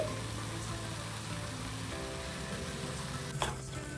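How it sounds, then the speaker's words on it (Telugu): Gongura (sorrel) leaves fry steadily in a pan on a stove, a soft continuous sizzle with a brief scrape or stir near the end, no voices. "ఈ గోంగూర అనేది సాఫ్ట్గా అయ్యేంత వరకు ఫ్రై చేసుకోవాలి"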